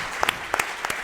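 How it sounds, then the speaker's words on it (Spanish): Audience applause at a Spanish book presentation: a short, steady burst of clapping from a seated crowd, with a few sharper claps standing out, heard alone. "la damos un aplauso porque yo creo que los jóvenes necesitan energía"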